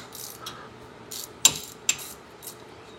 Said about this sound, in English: We're going to take our ratchet. This is actually a 14 mil bolt, and we're going to loosen these.